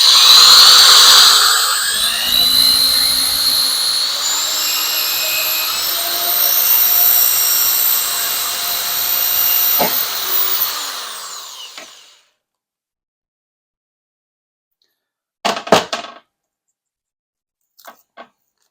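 A power drill whines loudly and steadily as it bores a hole into a handle for an anchor cable, the pitch shifting slightly before the motor winds down into silence, followed later by a few brief clicks and knocks.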